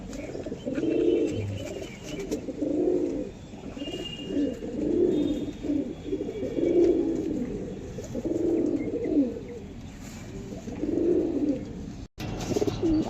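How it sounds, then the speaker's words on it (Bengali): Close, steady cooing from long-feathered fancy pigeons, six or so soft throaty phrases following one another at an even pace, ending with a brief click near the end. "লম্বা ফেদারে পায়রা একেবারে"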